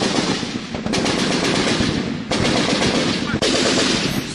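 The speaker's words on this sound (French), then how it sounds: "Puis les balles des Kalachnikov claquent." Kalashnikov rifles firing rapid bursts of gunfire during a clash with terrorists, loud and sharp, with brief pauses between volleys.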